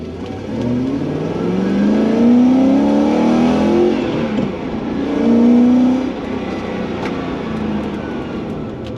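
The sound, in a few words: V8 car engine revving to about 5,500 RPM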